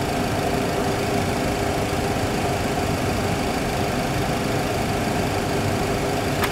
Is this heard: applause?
no